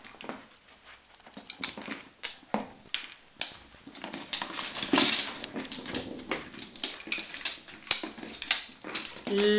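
A big dog whimpers softly amid pattering paws, snuffling and rustling, all fairly quiet and close.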